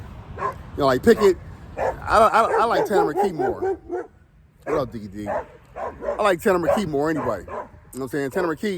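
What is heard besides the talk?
dog barking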